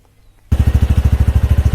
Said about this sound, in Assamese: এইখন বাইকখন ষ্টাৰ্ট হৈ আছে, ইঞ্জিন ষ্টাৰ্ট হৈ আছে।